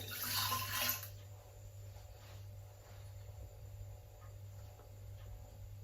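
Water poured into a stand mixer bowl for bread dough, a short, faint splashing pour of about a second, followed by a low steady hum and quiet background.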